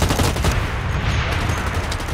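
Continuous, dense gunfire from a minigun in the shooter game Blacklight: Retribution, a loud sustained rattling burst running through the whole stretch with no voices over it.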